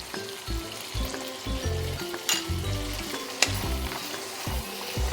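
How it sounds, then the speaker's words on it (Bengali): Ground cumin paste fries in a pan for a boal fish curry with pumpkin leaves, bori and eggplant, giving a steady close sizzle with soft, rhythmic stirring scrapes and no talk. "জিরেটাকে কিন্তু ভালো করে ভেজে নিতে হবে, যাতে জিরের কাঁচা গন্ধটা চলে যায়"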